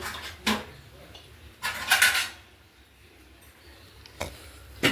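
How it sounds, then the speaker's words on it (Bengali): A lid placed over a cooking pot on a lit stove gives a few light metallic clinks and clatters, scattered and fairly quiet against a hushed kitchen background. "তারপর আমি ঢাকনা দিয়ে ঢেকে দিব"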